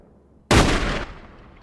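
A single loud sniper rifle shot in the turn-based game RAM Pressure, a sharp close blast that decays quickly into a brief rumbling tail.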